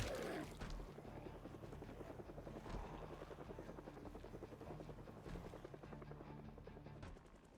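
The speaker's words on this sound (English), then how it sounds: "we hear that dreaded sound. Yep, there's a helicopter." A helicopter's rotor chops in a fast, steady rhythm, fairly faint and distant, holding constant for several seconds in the video game Project Zomboid.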